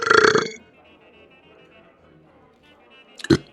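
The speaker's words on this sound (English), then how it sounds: "sits back and burps incredibly loud" One loud, long burp opens the clip and fades out quickly, followed by a stretch of quiet room tone and then a short, harsh burst of voice or burp near the end.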